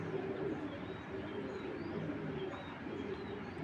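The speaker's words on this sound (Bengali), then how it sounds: "ব্লাড লাইন হলো বেস্ট কিটেলের ঘরের এজ বার্ড কবুতর" An aged breeding pigeon of the Kitel bloodline coos quietly nearby, a soft, low, repeated murmur with faint chirps from other birds in the background.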